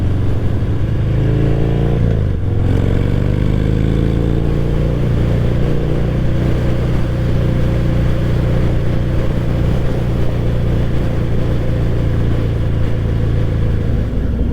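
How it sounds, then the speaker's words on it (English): Motorcycle engine running steadily while riding, a loud continuous low drone with a brief throttle shift near the start, then a sustained even hum with rising harmonics; no talking. "just on a motorcycle"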